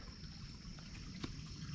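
A shallow woodland stream gently flowing over rocks, a soft steady trickle and burble with no variation, faint and close, heard alone without talk.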